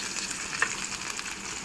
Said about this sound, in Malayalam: ഈ ചൂടായ എണ്ണയിൽ നമ്മൾ കുറച്ച് ചെറിയുള്ളി, മുറിച്ച് വെച്ച കുറച്ച് ചെറിയുള്ളി നമ്മൾ ഇതിലേക്ക് ചേർക്കണം.